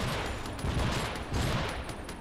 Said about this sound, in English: Look at the artillery show